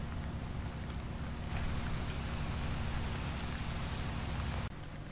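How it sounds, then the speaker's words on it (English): Rain falls steadily in a farming survival game, a constant hiss of drops with a low rumbling layer beneath, swelling slightly partway through before dropping abruptly near the end. "It's raining."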